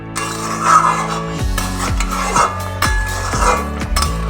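A lid is lifted off a pot of simmering Bengali fish kalia, with metallic clinks and scrapes of cookware against a steady bubbling sizzle. Several distinct clanks land in a loose rhythm close by.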